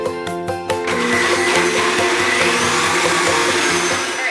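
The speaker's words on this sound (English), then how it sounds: "So I blended it on like low to medium for about 30 seconds." Small home blender whirring as it blends bulletproof coffee with butter, starting with a few quick stuttering pulses and then running as a steady loud whine, close and alone without talk.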